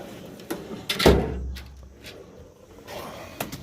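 A drawer on a Snap-On home tool box slides and shuts with a loud thump and a low metallic rumble, followed by lighter clinks and rattles of hand tools such as pliers inside.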